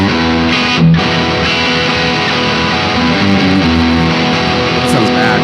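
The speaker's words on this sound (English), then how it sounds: "Let's kick on the distortion." Loud, dense distorted electric guitar from a Squier Mustang rings out with sustained chords, a thick buzzing tone filling the mix.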